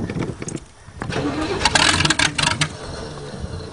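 A Cheviac engine on full choke cranks and fires, running rough and uneven before catching and settling, with bursts of loud mid-range engine noise.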